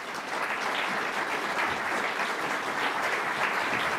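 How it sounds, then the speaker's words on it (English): Audience at a public education forum applauding the panelists, a dense steady roll of clapping that holds at full strength throughout with no voices over it. "now you may applaud all our panelists."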